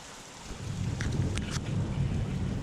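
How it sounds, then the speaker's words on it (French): A passing thunderstorm sends a low, distant rumble of thunder that swells and keeps rolling, with faint wind and rain noise around it. "l'orage s'éloigne déjà rapidement"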